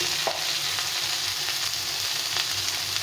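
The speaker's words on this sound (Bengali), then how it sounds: "ভালো করে পেঁয়াজের সঙ্গে ভেজে নিতে হবে" Eggplant frying with onion in a pan makes a steady, dense sizzle with occasional stirring scrapes, heard close and continuous with no talking.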